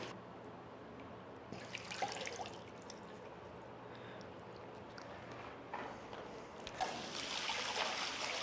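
A greenhouse pond fountain with a valve-adjusted stem flows softly in a steady, gentle trickle of splashing water. The sound is fairly quiet and close, swelling into brighter, louder splashes in a few spots, with no talk.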